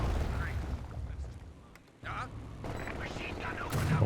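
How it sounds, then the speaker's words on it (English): Heavy mortar fire in Company of Heroes 2 during a 2v2 match, with booming shell impacts and explosions bursting over rumbling battlefield noise. "how about that heavy mortar, guys?"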